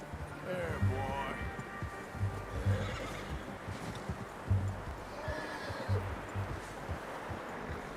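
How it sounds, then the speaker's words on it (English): A horse in Red Dead Redemption 2 whinnies and clops along at a walk, near and fairly loud, its neighs rising over steady hoof steps while someone talks and game ambience murmurs underneath. "I'm gonna hitch Taima over here"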